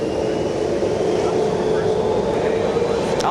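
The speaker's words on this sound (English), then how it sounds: "It looks like they might be spooling it up right now." Caribbean airliner at JFK spooling up its jet engines, a steady, loud, continuous broadband roar with a low rumble that holds level throughout, close by and without talk.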